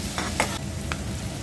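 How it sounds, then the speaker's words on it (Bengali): Onion, garlic and green chili frying in mustard oil, a close steady sizzle with a few quick spatula scrapes in a brief burst. "চিংড়ি মাছের ভর্তার জন্য পেঁয়াজ রসুন আর কাঁচামরিচ ভেজে নিচ্ছি"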